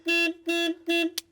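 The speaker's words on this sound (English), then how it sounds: "when you attach this battery, the alarm's going to go off" A Porsche Boxster car alarm sounds loud and close as three sustained electronic honks repeat evenly, followed by a short chirp, with no voices.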